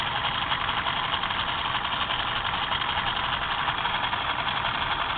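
A homemade solenoid motor turning at roughly 200 RPM makes a steady, continuous mechanical hum with a fine rapid pulsing, close and unchanging throughout with no voices.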